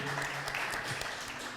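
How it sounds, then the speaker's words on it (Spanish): An audience at a Game Boy expo presentation applauds, a dense, steady wash of clapping that holds at even strength from start to finish with no voices on top. "Otro aplauso para Leandro, por favor."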